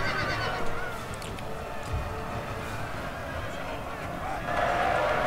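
Horses of the horse guard cavalry neigh and whinny amid a busy Napoleonic battle in Napoleon Total War, with hoof clatter and a dense rumble of battlefield noise beneath, while someone talks over it.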